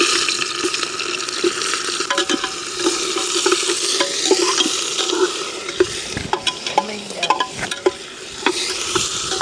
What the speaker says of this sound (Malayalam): എണ്ണ ചൂടായിട്ടുണ്ട്. സവാള ഇടാം.